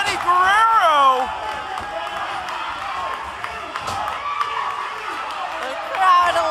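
A wrestling crowd at a live OVW event cheers and roars steadily in the arena, a broad wash of noise with scattered claps, running beneath continuous commentary from announcers.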